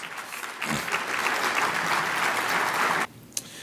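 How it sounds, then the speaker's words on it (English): Audience applause at a stakeholders and community briefing, honoring a public health graduate: a steady wash of clapping that holds for about three seconds, then cuts off abruptly, with a lone faint clap after. "Let's give them a huge round of applause."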